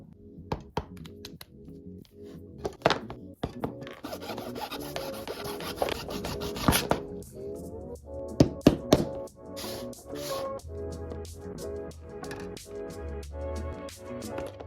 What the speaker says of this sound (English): I have to saw this part off now